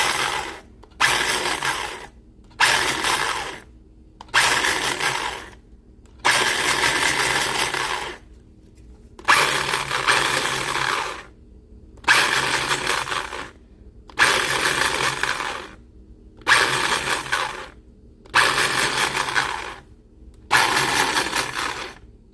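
Electric chopper grinds dried rosemary in about a dozen short, loud whirring bursts separated by brief silences, each pulse rattling the dry herb inside.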